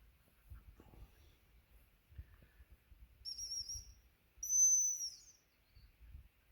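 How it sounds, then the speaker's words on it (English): A dog training whistle used to sit up a springer spaniel outdoors gives two clear, shrill blasts, a shorter one and then a louder, longer one, over quiet background rustle. "So he'll sit him up with the whistle."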